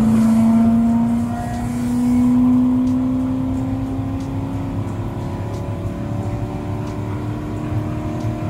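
A Ford GT40 race car drives on a test circuit, its engine a steady near drone that swells around the second and third seconds and then settles into a continuous run, with no talking.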